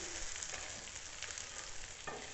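Vegetables, including potato pieces, fry in a pan over high heat, giving off a loud, steady, close-up sizzle that hisses without pause, with a few faint scrapes and no talking.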